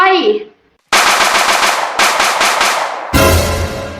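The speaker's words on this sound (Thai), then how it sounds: "เจอไฟแล้วยิงปืนใส่ไฟ" Rapid bursts of machine-gun fire are aimed at a fire, coming as loud, close strings of evenly spaced shots in three quick volleys, just after a short voice at the start.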